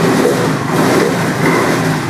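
A Honda Grazia scooter engine runs at idle close by, a steady, even low hum with no breaks or revving and no talking.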